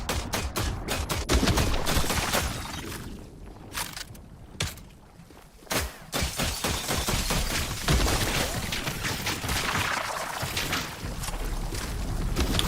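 Pistol shots ring out in the survival video game The Last Caretaker, a string of sharp reports spread across the stretch over a continuous game background, loud and near.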